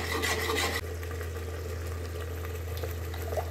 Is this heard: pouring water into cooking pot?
yes